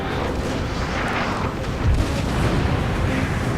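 Musket volleys from skirmishers in the Napoleon Total War game, a dense rumble of distant overlapping shots and booms that swells slightly partway through and carries on steadily.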